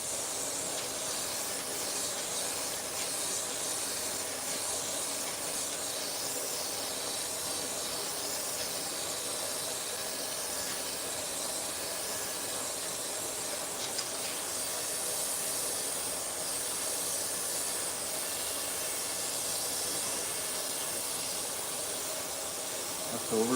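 Paint sprayer laying down paint with overspray, a soft continuous airy hiss running steadily throughout, moderately close, with faint background murmur beneath.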